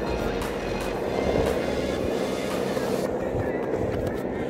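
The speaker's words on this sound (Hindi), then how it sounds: "हेलीकॉप्टर निकला है" A helicopter passes over the snowy Gulmarg ski area, a broad, steady rushing drone heard from a distance while someone talks over it.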